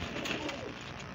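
Teddy pigeons cooing in a Lahore pigeon-sale setting, a steady low murmur of coos under broad background noise, fairly close and continuous, with no talk.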